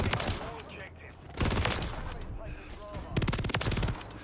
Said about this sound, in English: First game on with the submachine gun.